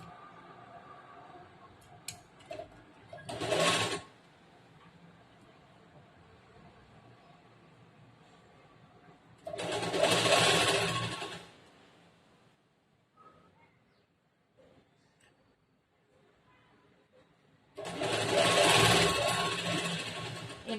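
Sewing machine stitching the last edge of a plain blouse, three separate short bursts of a few seconds each separated by quiet fabric handling, close and fairly loud.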